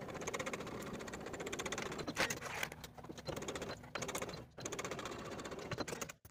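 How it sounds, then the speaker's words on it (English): A home sewing machine bastes the edges of a bodysuit lining sewn from Simplicity 8513, a rapid, even mechanical stitching chatter running close and steady, broken by a couple of short pauses. "take it to your sewing machine and baste those edges in place."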